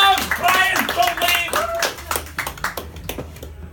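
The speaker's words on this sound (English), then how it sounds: "Give her a round of applause" Scattered clapping from a stand-up comedy club audience, uneven bursts of claps mixed with voices and whoops, thinning out toward the end.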